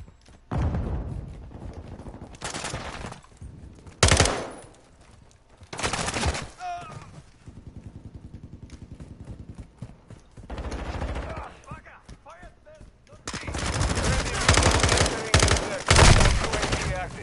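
Video game gunfire in a hotel map: loud bursts of automatic fire and rapid shot volleys come in repeated clusters, with players talking between them.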